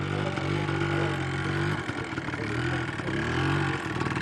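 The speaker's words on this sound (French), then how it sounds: "Une dame qui s'exerce à la conduite d'une moto." A motorcycle engine runs steadily close by as a woman rides during a practical two-wheeler licensing exam, with loud, continuous droning and shifting revs throughout.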